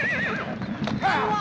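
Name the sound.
horses neighing and galloping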